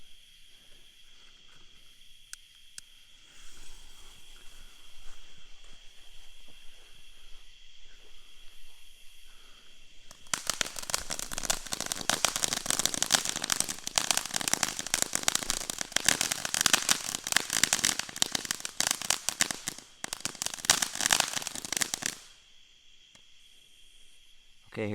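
Cheap consumer fireworks lit and going off: a quiet stretch, then about twelve seconds of loud, dense crackling and hissing bursts, fading back to quiet near the end.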